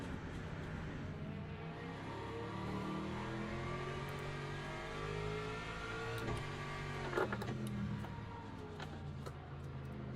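Race car engine in the Le Mans Ultimate sim racing game at Brazil's circuit, droning steadily with rising and falling revs and gear shifts, plus other cars nearby, continuous and moderately loud throughout.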